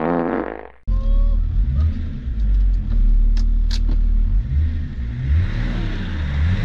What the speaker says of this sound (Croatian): novi auto! Slušaj ga, slušaj ga.